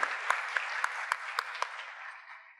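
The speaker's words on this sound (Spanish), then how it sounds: "Un aplauso para la doctora, por favor." Applause for a doctor at an artificial intelligence conference session, a dense round of clapping with a regular run of sharper claps, thinning and tapering off by the end.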